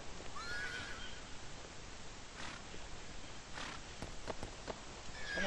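Horses whinny repeatedly in the Hitman Contracts video game, short bursts breaking through a rough, steady ambient bed, with scattered hoof-like thuds and a swell toward the end.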